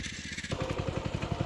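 Tractor engine running on a farm plot before plowing, a rapid chugging idle with a regular pulsing beat, close and fairly loud, with no talking.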